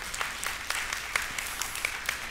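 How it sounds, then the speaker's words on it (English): A church audience applauds in a short burst of scattered claps that sound moderately close and lively, with no speech over it. "you can applaud, that's great."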